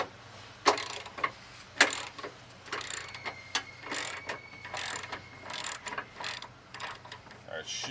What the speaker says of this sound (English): hold the wrench on the back side while I loosen the front side